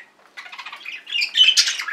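Pet birds squawk and chirp at close range while drinking indoors, a busy burst of shrill calls growing louder toward the end.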